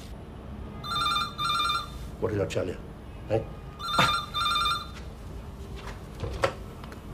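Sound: telephone ringing

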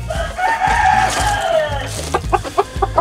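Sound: Shamo chicken clucking

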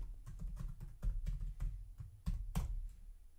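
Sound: typing a password on a computer keyboard

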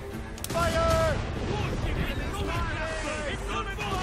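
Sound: gunfire in the video game Assassin's Creed Rogue

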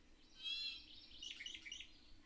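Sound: Hawaiian honeycreeper singing, creaky-hinge-like song

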